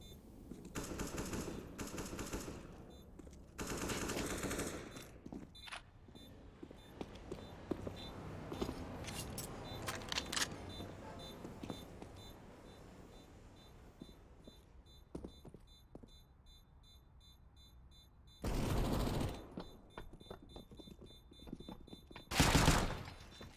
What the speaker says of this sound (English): Oh, good headshot from Shocking.